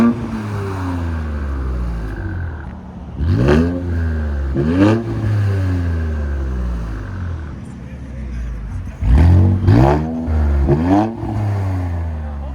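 An Infiniti Q60 with a 3.0L twin-turbo V6 and an aftermarket exhaust idles with a low, steady burble, then snaps into four sharp throttle blips, two early and two close together later, each swelling loudly and dropping back.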